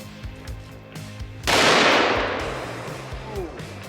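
A single loud, sharp handgun shot firing a 300 grain jacketed soft point round at a cast iron Peerless 2300 transmission outdoors by a creek, with a long fading boom trailing into the open air after faint rustling beforehand.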